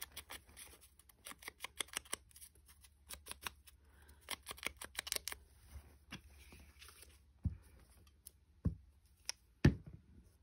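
Scissors trim the paper edge of a window envelope in a series of short crisp snips, close and quiet, some rapid runs then a few isolated louder cuts.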